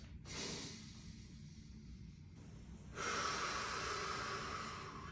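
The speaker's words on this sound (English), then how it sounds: "Good time to take some deep breaths" Two long, deep breaths are drawn audibly through the nose during a plank hold, each a steady airy rush close to the microphone.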